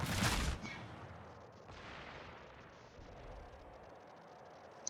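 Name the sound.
warship gunfire from a naval video game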